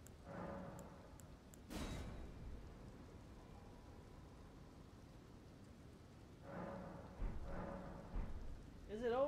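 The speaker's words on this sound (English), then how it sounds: "Is it always raining here?" Rain falls steadily in a video game while thunder rumbles in soft bursts, faint and low in the mix, with a few short whooshing and clicking game sounds scattered throughout.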